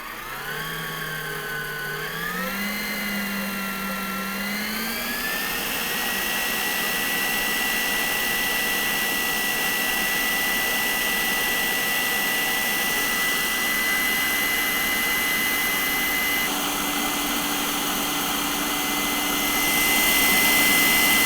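An Aicok 5-quart stand mixer whips two cups of cream, its electric motor whine climbing in pitch as the speed is turned up, then holding a loud, steady, droning hum close by.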